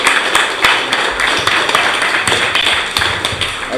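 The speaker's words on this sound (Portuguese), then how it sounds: "É uma salva de palmas para o povo que está lá na ocupação" Applause from a crowd hailing people at an occupation, a dense, steady patter of clapping hands with sharper individual claps standing out, loud and continuous throughout.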